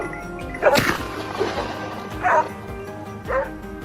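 A pack of hunting dogs bark and yelp at a large wild boar at the base of a slope, with three loud bursts of barking about a second apart over a continuous murmur of outdoor background noise.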